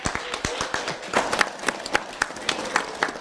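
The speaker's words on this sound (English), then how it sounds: "I want you to give a rousing applause and say thank you to your parents" Audience applause at a December holiday-season event, as a room of kids claps for their parents: scattered, uneven claps close by, sounding thin and sparse rather than a full roar, with no talking over it.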